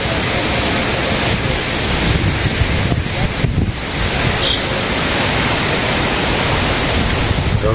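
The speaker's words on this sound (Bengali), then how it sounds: "কিরকম বাতাস দেখছেন?" Strong wind gusts over a Bangladeshi village, a steady loud roar that rumbles into the microphone for the whole stretch, with no voices.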